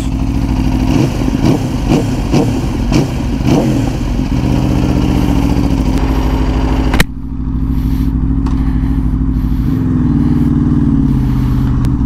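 A motorcycle engine is started up close, then runs loudly with rough, clattering revs before settling into a steady rumble.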